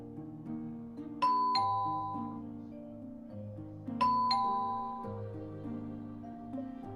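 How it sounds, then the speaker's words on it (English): A two-tone doorbell chime rings twice in the game Tears of Themis, ding-dong then ding-dong again, over soft background music. "You're standing outside of Vin's house and ringing his doorbell"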